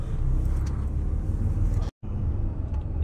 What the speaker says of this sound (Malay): Kereta-kereta dan motorcyclist